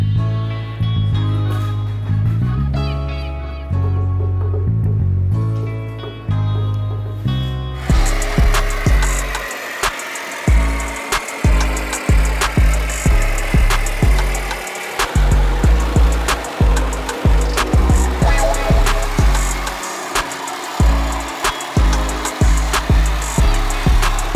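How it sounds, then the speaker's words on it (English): A Sawzall reciprocating saw and an angle grinder cut through a truck cab in a shop, loud and close, with a steady grind giving way to choppy bursts of cutting and short pauses between strokes. "So Sawzall is just gonna be the best way to get this thing off."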